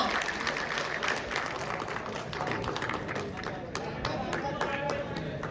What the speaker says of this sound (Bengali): একটা জোরে করতালি চাইছি রহমতুল্লাহ ইলেকট্রিকের জন্য